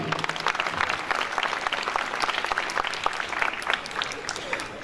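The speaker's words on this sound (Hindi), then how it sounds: "इनके लिए भरपूर तालियां जी" Steady applause from a sizable crowd for church choirs at a Passion of Christ performance, dense clapping that holds throughout at an even, lively level.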